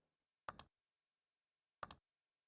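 Two quick double mouse clicks, sharp and close, separated by about a second of silence, while installing the Claude Chrome extension.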